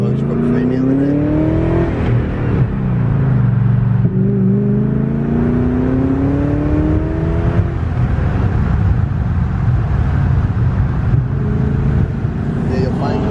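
A BMW E34 540i's engine drones steadily while driving, rising in pitch through the gears with audible shifts, close and continuous, with the hum of the road beneath.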